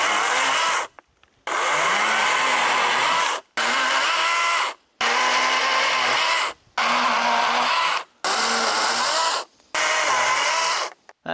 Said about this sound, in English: So I'm gonna go through and try and get it pretty flat with the chainsaw